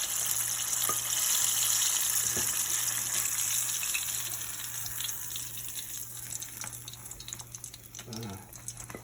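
Battered fish sizzles steadily in hot oil, a continuous crispy hiss with faint crackles and a low hum underneath, fading slightly toward the end.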